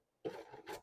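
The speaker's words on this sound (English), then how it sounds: "We have a stick of frozen butter, and we are going to grate this right into our flour mixture." A stick of frozen butter scraped across a box grater into a flour mixture, making a short, soft rasping stroke followed by a second brief scrape, close and quiet.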